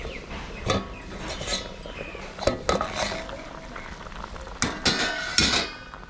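A metal lid is lifted off a pot of fish curry simmering over a medium flame, giving a few clanks and clinks among scattered kitchen knocks, close by and moderately loud, with no one speaking.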